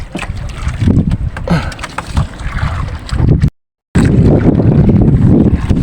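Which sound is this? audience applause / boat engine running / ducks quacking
boat engine running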